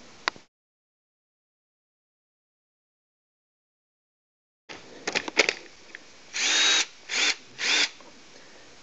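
A cordless drill powered by a rejuvenated NiCd battery whirs in several short bursts after a long silence, with a few quick blips followed by three longer, close, loud runs.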